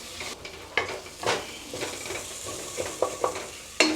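Chili and coriander powder sauté in a pan with a soft continuous sizzle, broken by irregular scrapes and knocks of a spoon stirring against the metal.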